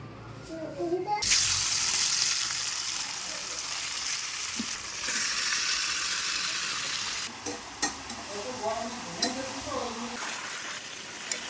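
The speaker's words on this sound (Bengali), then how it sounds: "মাংসটা প্রায় কষা হয়ে গেছে" Pieces of meat with capsicum fry and sizzle loudly in a pan, a strong continuous hiss broken by stirring scrapes and knocks of the spoon, with a voice talking faintly at times.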